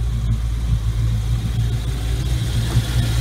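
The engine of a 1995 Chaparral 2500 boat runs at a steady idle, giving a continuous low hum with a constant tone throughout and no speech over it.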